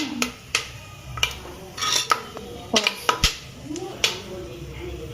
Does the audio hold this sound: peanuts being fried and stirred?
yes